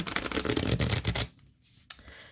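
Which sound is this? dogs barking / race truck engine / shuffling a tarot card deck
shuffling a tarot card deck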